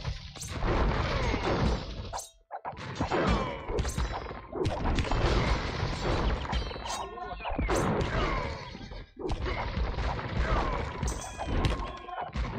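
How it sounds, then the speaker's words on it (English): Cannon fire in a real-time strategy game batters buildings in a run of heavy thuds, crashes and crumbling impacts, loud and nearly continuous with brief gaps. "Knock that shit out with your cannons."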